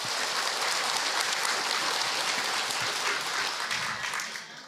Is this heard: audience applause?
yes